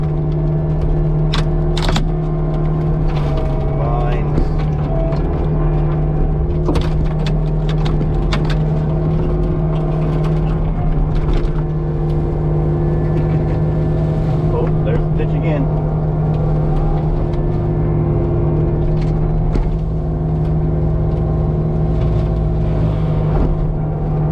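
A forestry mulcher head chews through dirt and bamboo while clearing a small property in Daytona Beach, Florida: a loud, constant engine drone with scattered cracks and snaps from the cutting head.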